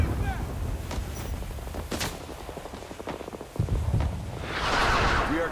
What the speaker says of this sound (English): Return fire. I'm gonna return fire.